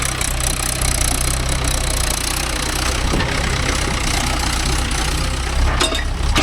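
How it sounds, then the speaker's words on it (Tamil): A Mahindra tractor hauling a trolley at a stone and soil loading site runs loud and close, its diesel engine chugging steadily with a rough knocking texture throughout. "நல்லா ரேஸ் வச்சு வா, பெரிய ரேஸு."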